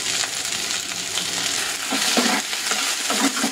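Onions and a spoonful of rice frying and being stirred in a pan for a red chilli rice curry, a close, loud continuous sizzle with scraping stir strokes toward the end.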